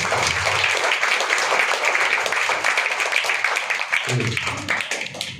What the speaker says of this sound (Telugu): అందరూ చప్పట్లు కొట్టి దేవుని మహిమ కలుగును.